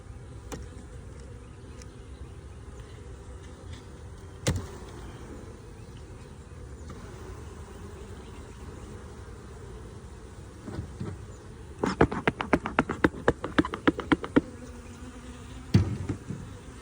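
A steady low hum of honey bees in a new hive runs throughout. Near the end comes a quick rattle of clicks, with a few sharp knocks scattered through.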